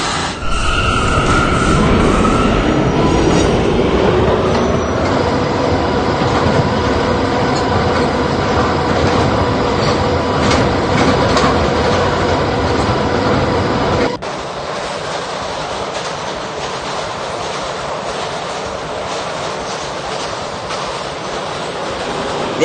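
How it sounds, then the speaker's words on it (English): An R179 subway car on a New York City K train rides with a loud, continuous rumble and rattle of wheels on track, which drops abruptly to a quieter, steadier hum partway through. "This is a Calhoun-bound K train."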